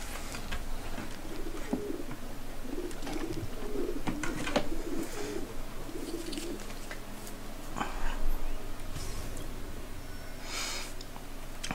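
Pigeons coo in soft, repeated throaty calls at a rooftop pigeon coop in the video game Assassin's Creed 2. Occasional clicks and faint rustles come between the calls.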